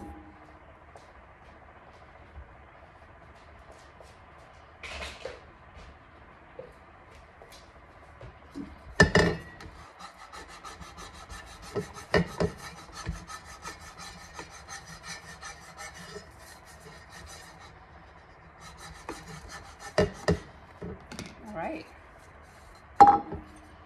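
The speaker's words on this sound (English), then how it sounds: "Let me get my little scraper." A scraper rubbing and smoothing a sticky sheet onto a tumbler, soft scratchy strokes with a few sharper scrapes and clicks scattered across a quiet background.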